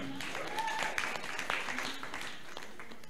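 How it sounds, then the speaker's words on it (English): An audience applauds a speaker called up at a girls' graduation and app development competition event, a fairly faint, steady wash of clapping with brief higher voices or cheers mixed in. "Please, a round of applause for her"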